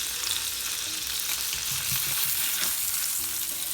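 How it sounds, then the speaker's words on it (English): Chopped steaks sear in a frying pan with a steady, loud, close sizzle that runs without a break. "we're gonna let them sear on the other side for a few minutes"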